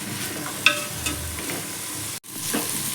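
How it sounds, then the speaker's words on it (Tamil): Mixed vegetables and potato sautéing in hot oil for vegetable biryani, a steady close sizzle with spatula scrapes and stirring knocks, a brief break near the end, no voices. "இப்போ இந்த வெஜிடபிள்ஸ் வந்து நல்லா மிக்ஸ் பண்ணி விட்டுக்கலாம் ஆயிலில்."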